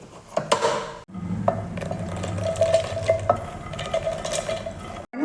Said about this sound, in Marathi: खारीक पावडर भाजून घ्यायची आहे गरम करायची